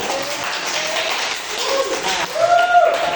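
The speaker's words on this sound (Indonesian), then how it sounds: "tepuk tangan dulu buat Billy ya" A classroom claps for a student who has just presented, a short burst of applause from a small group, with a voice heard briefly near the end.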